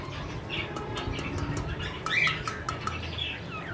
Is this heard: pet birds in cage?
yes